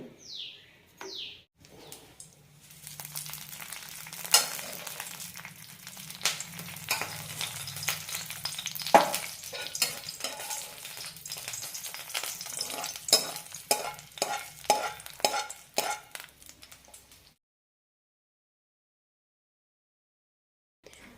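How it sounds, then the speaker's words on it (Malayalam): Mustard seeds, red chilli, curry leaves and fenugreek tempering in hot oil for pineapple pulissery, a crackling sizzle with sharp popping bursts and stirring clatter that stops abruptly, birds chirping faintly in the background. "ഇനി ഇതിലേക്ക് താളിച്ചിടാം കടുക് ചുവന്നമുളക് കറിവേപ്പില ഒലുവട്ട് താളിക്കാം"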